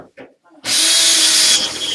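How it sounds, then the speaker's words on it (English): A power drill bores through a bathroom wall for a grab rail, with water on the bit, bursting into a loud, steady high whine that runs close for over a second after a short spoken phrase. "see how that drill went straight through?"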